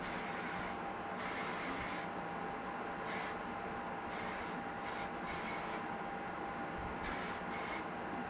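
Suave Professionals Firm Control Finishing Hairspray is sprayed onto hair in a run of hissing aerosol bursts of uneven length, close and steady, separated by short pauses over a constant background hum.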